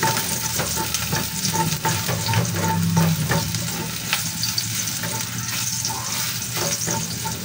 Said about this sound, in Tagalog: Mainit na po, ilalagay na po natin yung ating bawang.